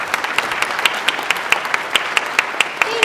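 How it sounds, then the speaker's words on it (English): A crowd at a student recognition evening applauds Ms. Cueto with steady, moderately loud clapping, sharp individual claps standing out in a regular rhythm throughout. "Let's give Ms. Cueto a round of applause."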